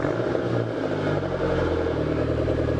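A stock Subaru Baja's engine idles nearby with a steady, low mechanical hum and faint clatter, holding an even pitch alone with no voices.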